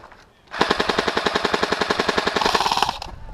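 Airsoft gun firing on full auto at an outdoor tower game, running a fresh battery: one fast, steady burst of sharp mechanical cracks lasting about two and a half seconds, loud and close, with no talking.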